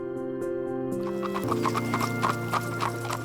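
Horse hooves clip-clop steadily as a horse pulls an Amish buggy, the even rhythm rising through the second half over a droning background, with brief clucking fowl near the start.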